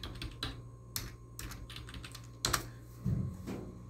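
Keys clack on a computer keyboard in short irregular bursts, close and crisp, with a few sharper individual strikes and no talking.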